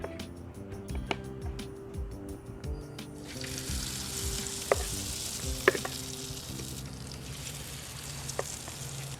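Pickles frying in small batches on a Blackstone griddle, a continuous sizzle with scattered clicks and taps of utensils, growing slightly louder and brighter partway through.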